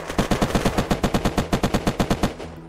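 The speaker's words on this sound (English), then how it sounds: "So I'm getting shot at." Rapid automatic gunfire in the video game Unturned, a loud burst of about twenty evenly spaced shots over a couple of seconds before trailing off, with no talking.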